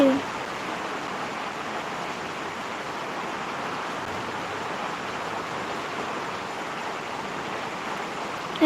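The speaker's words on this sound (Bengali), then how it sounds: "খুব বৃষ্টি পড়ছে কত জোরে" Heavy rain pours down at night as a steady, even hiss that sounds fairly close, with no breaks in the downpour.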